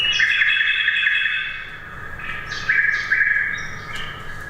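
A nightingale sings in Berlin, a loud, close run of bright whistled phrases with rising and steady notes and quick chirps, continuous with no talk.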